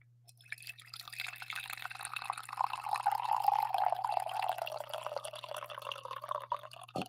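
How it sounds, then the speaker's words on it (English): Coffee poured steadily into a cup for about six seconds as one continuous, moderately loud liquid stream with a faint low hum beneath and no talking. "Pretty strong, hearty pour."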